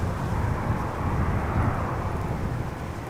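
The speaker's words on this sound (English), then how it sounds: "737-800 arriving from Rome up next. KLM flight 1602." A KLM Boeing 737-800 airliner arriving at Amsterdam Schiphol from Rome gives a steady, broad low roar with mid-range rumble, fairly loud and constant throughout, with no voices.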